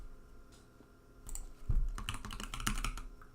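Someone types on a computer keyboard at close range in a quick, uneven patter of clicky keystrokes that starts faintly and grows denser and louder.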